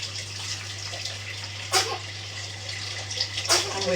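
Running tap water pours steadily into a pot being filled for poached eggs in a home kitchen, a continuous hiss with two brief clatters of the pot shifting under the flow, no voices.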